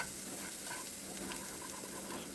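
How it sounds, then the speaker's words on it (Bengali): Grated garlic and black cumin fry in mustard oil with a faint, steady sizzle and soft hiss, heard alone. "কালো জিরে আর রসুন ফোড়নে দিয়ে দিলাম।"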